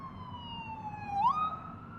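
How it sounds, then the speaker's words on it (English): An ambulance siren passing on a Toronto road, its wailing tone gliding steadily and then sweeping upward as it nears, heard over the low rumble of road noise from inside a moving car. "a ambulance coming."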